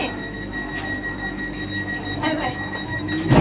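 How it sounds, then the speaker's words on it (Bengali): A Vande Bharat Express pulls out of Howrah station with a steady low rumble of rolling wheels and a faint high electric whine, heard from inside the coach. "ঠিক 7টা 50 মিনিটে ট্রেন ছাড়লো। আমরা হাওড়া থেকে বেরোচ্ছি।"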